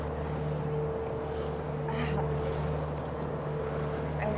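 A rigid inflatable boat's engine drones steadily with a low hum, wind and water noise over it, as it motors past close by at sea.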